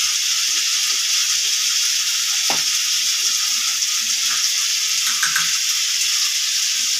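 Green chillies and poha ingredients frying in a pan: a loud, steady, bright sizzle throughout, with a few faint scraping stirs.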